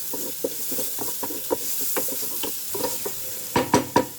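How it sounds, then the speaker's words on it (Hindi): Finely chopped onion frying in a pan for a no-oven pizza, a steady close sizzle broken by repeated stirring clatters and scrapes, with several louder spatula knocks near the end. "इसमें मैं डालूंगी फाइनली चॉप्ड अनियन। थोड़ा सा फ्राई करना है।"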